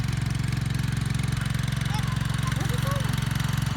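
Homebuilt Chinese four-wheeler assembled from junkyard parts, its small engine idling with a steady, rapid, close chugging pulse throughout.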